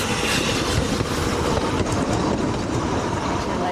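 A Ffestiniog Railway train rolls along the line close by, a loud, steady rumble with clickety-clack of wheels over rail joints throughout.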